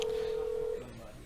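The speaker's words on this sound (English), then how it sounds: "Phone's ringing." A telephone rings during a televised darts match, a single sustained electronic tone held steadily for most of a second before cutting off into the room's background murmur.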